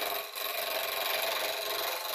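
A wooden pen blank spinning on a lathe has its four corners lightly cut down, producing a continuous close, dense rasping scrape with brief dips, steady and fairly loud, with no voices.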